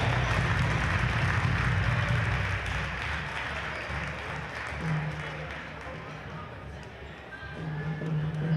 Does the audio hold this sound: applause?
yes